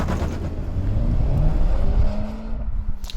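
A 2018 Honda Civic Type R pulls away under hard acceleration, its engine note rising loud and close, then thinning as the car draws off into the distance.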